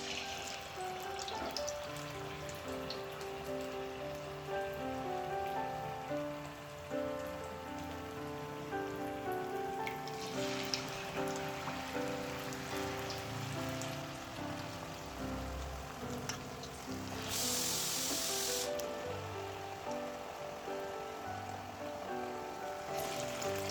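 Bonda frying in hot coconut oil makes a steady, rain-like sizzle with fine crackles throughout, heard beneath soft background music.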